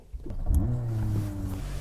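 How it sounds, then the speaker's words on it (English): A 2025 Kia K4 engine cranks and catches, settling into a low, steady idle hum heard from inside the cabin, fairly quiet and without talk. "Now I'm going to start the engine and measure again."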